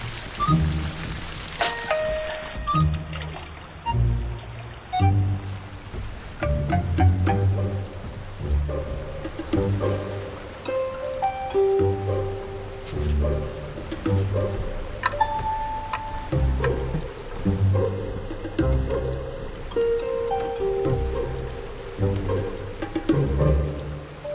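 Steady rain falls throughout a scene from a Chinese period TV drama, a continuous hiss of drops with soft musical tones and occasional brief thuds layered on top.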